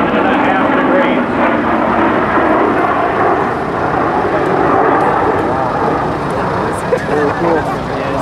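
A B-1B four-engine swing-wing bomber, wings swept back, roars past in a flyby at the 2005 Andrews AFB airshow, a loud, sustained jet rumble with an announcer's voice over it.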